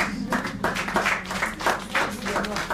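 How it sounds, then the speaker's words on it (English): A small audience at a taster class clapping, sparse moderate claps over a low room hum, fairly close. "So, I thought you would clap for us."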